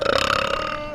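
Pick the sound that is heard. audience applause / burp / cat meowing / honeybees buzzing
burp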